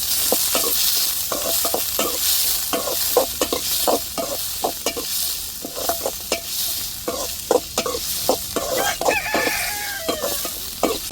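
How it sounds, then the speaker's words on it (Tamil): Shallots and big onions sauté in hot oil with a constant close sizzle, punctuated by rhythmic stirring scrapes, while a rooster crows and chickens cluck in the background. "இப்போ எண்ணெய் சூடேறிட்டு வெங்காயத்தை நல்லா வதக்கிக்கிடுவோம்"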